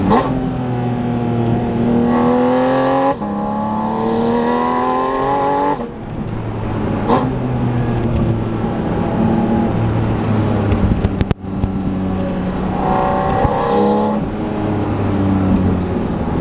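A Porsche Boxster Spyder RS flat-six engine revs and accelerates hard and close, with rising harmonic sweeps, brief lifts between gear changes and renewed pulls, loud and continuous throughout with no speech.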